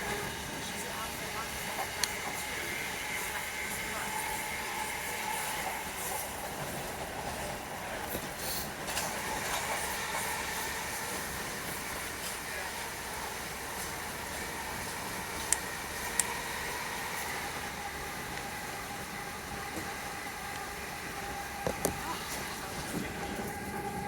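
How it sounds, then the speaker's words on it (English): A Southeastern Class 376 electric train rolls past en route to Charing Cross, a steady broadband rumble and rail roar filling the whole stretch with occasional sharp clicks and squeals, heard from on board another train. "There's a Class 376 en route to Charing Cross."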